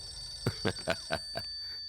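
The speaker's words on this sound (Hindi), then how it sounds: "मेरी बेटी का फोन है।" A phone rings in a Hindi-dubbed action comedy film, giving five quick, evenly spaced bell-like trills over a faint background hum.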